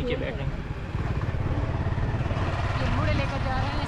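A motorcycle engine drones steadily on a road at close range, a continuous mid-pitched motor sound that holds for a few seconds.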